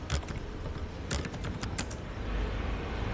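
Keys clatter on a computer keyboard in a quick, uneven burst of distinct clicks, close and quiet, with a brief pause and a few final taps and no voices.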